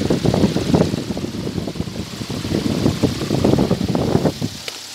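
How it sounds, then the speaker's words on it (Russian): A homemade wind generator built from a printer stepper motor spins in strong wind above 10 m/s, giving a loud, steady rushing wind roar with rapid fluttering mechanical pulses, continuous throughout and ending abruptly. "Вот так, друзья, работает данный ветрогенератор из шагового двигателя при скорости ветра больше 10 метров в секунду"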